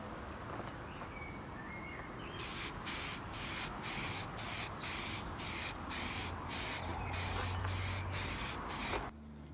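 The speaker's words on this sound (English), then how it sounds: "And then get them sprayed, wait for them dry, and then we can put them together." Cabinet parts for an off-grid RV camper build get spray painted in a series of about a dozen short, loud aerosol hisses with brief pauses between bursts, set over quiet background noise.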